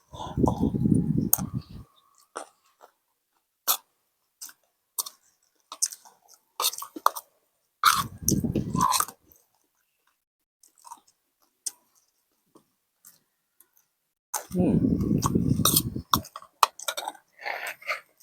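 Chewing sounds from someone eating a spicy vegetable stir-fry, in three close bursts of wet, crunchy mastication separated by quiet gaps with scattered small clicks.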